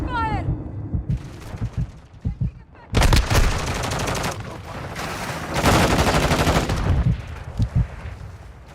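Heavy automatic gunfire in a shooter game, loud and near, with scattered shots giving way to long dense bursts and sharp individual cracks, under shouted combat voices.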